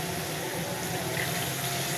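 About a cup of water pours steadily into a pan of spiced, partly cooked chicken, giving a continuous close splashing rush that lasts throughout with no talking.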